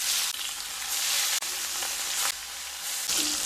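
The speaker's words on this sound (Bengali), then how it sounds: "এবার কড়াইতে সর্ষের তেল দিয়ে দেব। তেলটা গরম হয়ে এলে মাছগুলো ভেজে নেব।" Katla fish fries in hot mustard oil in a wok, a loud, dense, continuous crackling sizzle at close range, with brief dips and swells as pieces shift in the oil, no speech.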